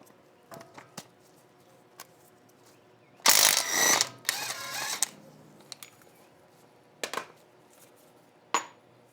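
Ratchet fitted with a 35 mm socket working on a Tacoma's suspension: scattered clicks, then a loud burst of rapid ratcheting around the middle, followed by a few isolated sharp clicks, close and without talk.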